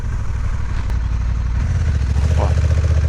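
A motorcycle engine idling close by with a steady low throbbing rumble on a French coastal road, while a voice talks over it.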